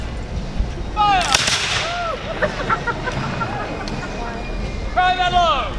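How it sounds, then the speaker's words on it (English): A company volley of muskets fires as one sharp, loud crack with a long rumbling tail. A voice carries on around it, and crowd chatter and faint whistling bird-like tones sit in the background. "Ram down the musket ball. Come back to shoulder. Company, make ready. Reset. Fire."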